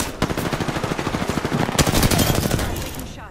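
Rapid automatic gunfire in Apex Legends, a fast, even burst of close, loud shots that runs for about three seconds before stopping abruptly, with no talk over it.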